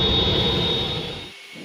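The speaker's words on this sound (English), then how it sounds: "when we get the airplane fired up" Airplane engines spooling up before takeoff, a loud steady broadband roar with a high whine, tapering off slightly toward the end with no talk.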